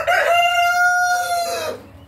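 A rooster gives one close, loud, sustained crow inside a chicken coop, with faint clucking from other fowl in the background.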